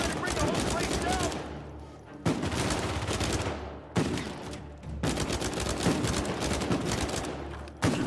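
Dense, rapid gunfire from the Uncharted 4 video game rattles almost continuously in loud bursts separated by brief gaps, with voices faintly mixed in under the shooting.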